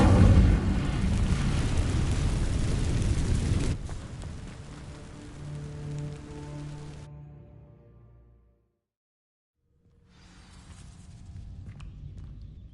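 An Incendio fire spell cast in a Hogwarts video game bursts out loud and roaring, fades to a crackling rumble, drops briefly to silence, then a softer hiss follows.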